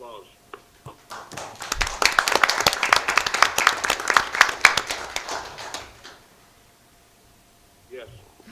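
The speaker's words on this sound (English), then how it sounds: "So please, let's give her a round of applause." A round of applause at a city council meeting: a short burst of clapping from a small group swells, peaks and fades out after a few seconds, with brief talk before and after.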